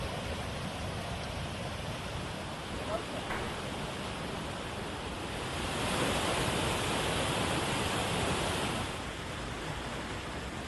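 Floodwater surging down a road like a river in Mayurbhanj, Odisha, a steady loud broadband roar that swells briefly louder midway before settling again, with no voices over it.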